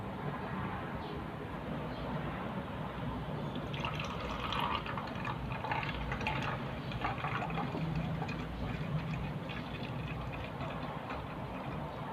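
Cooled, salty fermented fish sauce being poured into a bottle, a continuous liquid trickle and gurgle lasting the whole stretch over steady background noise.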